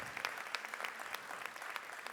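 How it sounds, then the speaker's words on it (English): Brief, fairly faint applause from an audience for student volunteers at a Sankofa celebration, a quick patter of scattered claps lasting about two seconds. "Please give a round of applause for our students."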